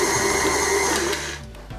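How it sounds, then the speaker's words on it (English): An electric stand mixer runs steadily as it mixes cookie dough, a loud continuous whir that stops near the end and leaves only a faint tail. "we're gonna put the mixer on and mix it until it just comes together"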